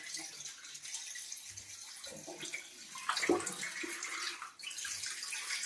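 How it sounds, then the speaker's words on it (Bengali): Hilsa fish being rinsed lightly in water, with soft splashing and trickling that rises into a fuller wash of running water midway, close and moderately quiet. "সব ইলিশ মাছগুলোকে ফেলিয়ে দিয়েছি এখানে, হালকা করে এরকম করে ধুয়ে নেব"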